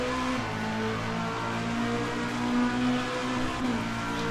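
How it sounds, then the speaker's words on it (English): A Mercedes race car at Symmons Plains, its engine holding a loud, steady, buzzing note with small rises and dips as it runs near the listener, with no talk over it. "That Merc sounds awesome."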